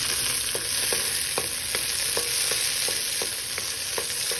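Onion sautéing in a hot pan for sarciadong pechay: a steady, loud sizzle of frying with regular light taps of a utensil stirring, roughly every half second, and no talking.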